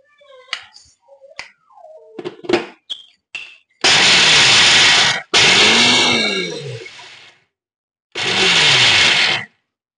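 Mixer grinder pulsing a batch of peanuts for sesame laddoos: after some clatter and knocks, two loud whirring bursts of grinding run back to back, a pause, then one more short burst.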